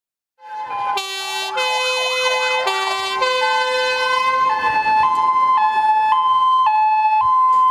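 Loud fire and ambulance sirens in a simulated emergency drill: a rapid warbling wail that shifts into an alternating two-tone pattern, continuous and close, with no talking.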